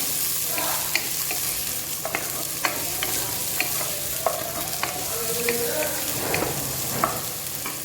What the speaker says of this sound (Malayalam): ആദ്യം നമ്മൾ നമ്മുടെ ബീൻസിന് ഇട്ട് കൊടുക്കാം ബീൻസ് ഇട്ട് കൊടുത്തു ജസ്റ്റ് നിറക്കാം